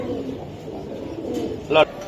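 A racing pigeon from a club loft coos softly under nearby talk, with one brief louder call near the end.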